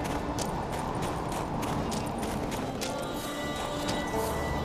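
Roach the horse in The Witcher 3 galloping off, a steady rapid clatter of hooves with a snort or whinny in a game landscape, continuous and fairly close.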